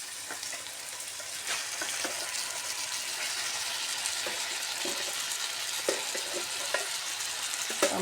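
Chili con carne sizzles steadily in a frying pan, a constant loud crackle with occasional stirring clicks and a wet splash, no voices.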